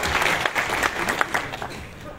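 A crowd applauds at a welcome ceremony for a spiritual leader in Sambhajinagar. The clapping is a dense, continuous patter mixed with voices, fairly loud and steady throughout.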